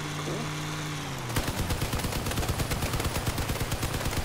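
Loud, rapid machine gun fire in the vehicle combat game Crossout bursts in after a low engine hum, a sustained rattling stream of shots close up.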